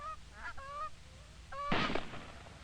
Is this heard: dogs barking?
no